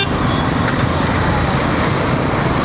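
Steady, dense road traffic on a crowded highway in India at around 8 PM, a continuous broadband rumble of passing cars, trucks and buses close by with no break and no speech.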